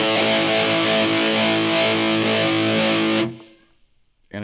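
Electric guitar through a tube overdrive distortion pedal sounds a thick, loud, sustained distorted chord for about three seconds, then cuts off abruptly into near silence before a brief noise at the end.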